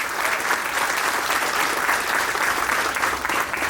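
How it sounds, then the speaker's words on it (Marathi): A large audience applauds loudly and steadily at a Mumbai Police event after a song, a dense, even wash of clapping with no gaps. "जोरदार टाळ्या वाजवायच्या आहेत."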